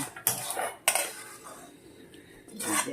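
A metal plate and utensils clatter in a home kitchen while a cooked mixture is lifted off the stove, with two sharp clanks close together, a quieter pause, then a longer scraping clatter at the end.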